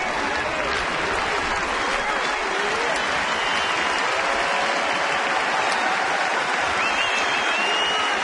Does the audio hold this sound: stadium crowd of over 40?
yes